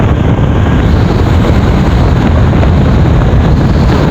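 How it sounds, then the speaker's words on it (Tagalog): Strong wind buffets the microphone on a dusty rural road trip to Sitio Busay in Cataingan, Masbate, a loud continuous low roar with no talk. "Medyo malakas pala yung hangin ngayon."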